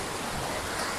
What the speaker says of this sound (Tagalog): Nandito na tayo sa waterfalls.